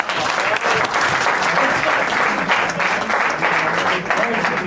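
A dense, loud wave of applause fills the room as a poet is welcomed at a recitation gathering in Montreal, steady throughout with no voice over it.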